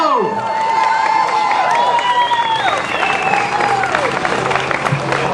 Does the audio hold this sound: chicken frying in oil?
no